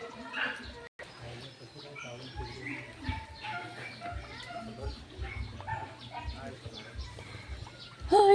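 Dogs bark and whimper nearby amid outdoor background noise by a river, with a few bird-like chirps and occasional people talking.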